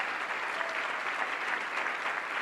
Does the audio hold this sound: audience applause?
yes